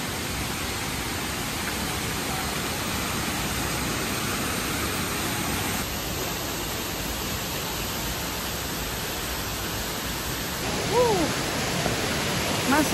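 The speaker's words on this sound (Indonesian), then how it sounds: "air terjunnya bener-bener air terjun gedenya masih di atas lagi ya." A waterfall roars steadily during a hike in Austria, a dense, loud rush of falling water that fills the whole stretch without a break.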